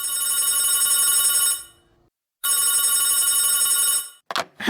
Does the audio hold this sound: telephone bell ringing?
yes